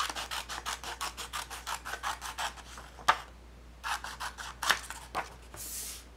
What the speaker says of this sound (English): So now I'm just going to cut along this line